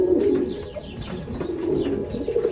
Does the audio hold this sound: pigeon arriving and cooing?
yes